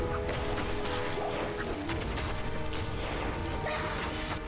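Frozen monsters shattering under weapon blows in Diablo II: Resurrected, a loud dense run of crashing, cracking impacts and metallic clatter that keeps going throughout.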